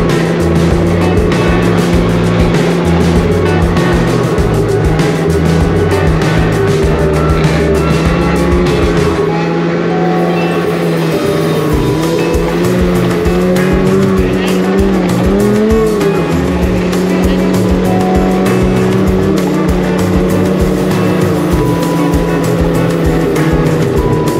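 Snowmobiles on a snowy mountain ride, a loud steady engine drone with shifting revs throughout, a brief dip midway before the motors surge back up close by.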